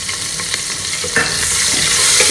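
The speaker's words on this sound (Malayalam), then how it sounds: "ഇതിനകത്തോട്ട് ഞാൻ കുറച്ച് സവാളയും കൂടി ഇടുന്നു" Onions sizzle steadily in a hot pot as the base for a beef pot roast, with a few stirring scrapes and clacks over a dense, close frying hiss and no talking.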